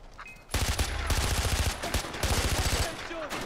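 Rapid automatic gunfire in Far Cry 4, aimed at a honey badger, bursts in after a brief quiet and rattles loud and close for about two seconds with a short break, then fades.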